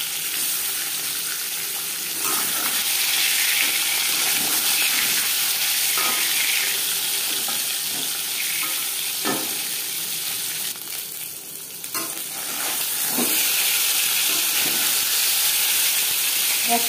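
Katla fish pieces frying in hot refined oil in a pan, a steady, close crackling sizzle that continues throughout with a few brief clatters and a short dip midway, no talking.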